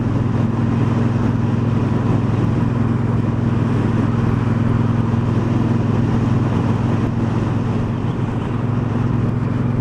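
A 2018 Triumph Bonneville Bobber ridden at steady speed, its twin engine a constant low droning hum mixed with rushing wind, unbroken for the whole stretch, without voices.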